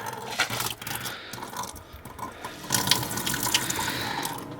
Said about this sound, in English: And there goes the water.